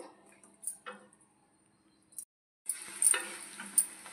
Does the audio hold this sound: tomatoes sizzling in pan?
yes